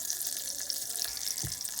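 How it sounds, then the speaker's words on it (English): Garlic fries in hot oil in a pan, giving a soft, steady sizzle with fine crackling pops and a single low bump partway through. It is faint and continuous, with no voices. "now I drop my garlic in and I wait until they are fragrant"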